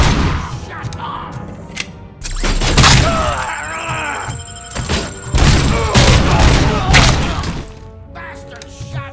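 Gunfire in RoboCop: Rogue City, loud booming shots and impacts with shattering debris in a chaotic firefight, mixed with groaning and shouted voices.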